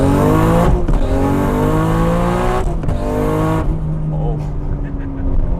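The RB26 engine of a 1,000 hp Nissan R34 GT-R revs hard and loud from inside the car, with rising pitch broken by quick gear changes before it settles to a lower drone. A voice briefly exclaims.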